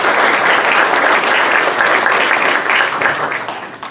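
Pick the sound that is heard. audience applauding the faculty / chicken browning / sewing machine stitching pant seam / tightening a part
audience applauding the faculty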